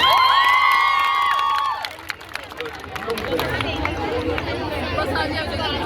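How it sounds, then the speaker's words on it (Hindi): A large crowd at a national celebration at the Governor House in Sindh, Pakistan, in 2025 breaks into cheering and a broad roar of noise after a few seconds of loud, sustained tonal sound, then keeps a steady hubbub. "जोरदार तालियां होनी चाहिए।"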